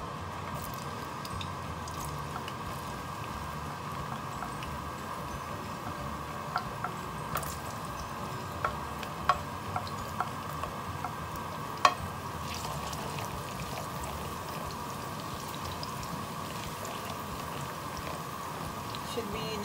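Garlic sizzles softly in a pan over low heat while cooking for tuyo, a steady faint frying hiss with occasional light clicks and scrapes of stirring scattered through, and talk now and then.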